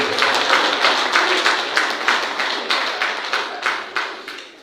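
An assembly crowd at a general meeting of the Senegalese women magistrates' association claps in rhythmic unison, with a regular beat of synchronized claps close and clear, fading slightly near the end.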